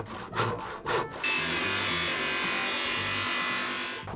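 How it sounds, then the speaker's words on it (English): Handsaw strokes rasp through a wooden beam being cut for a mortise, a few separate pulls first, then steady continuous sawing close up and fairly loud. "the saw didn't make its way through because it's not big enough"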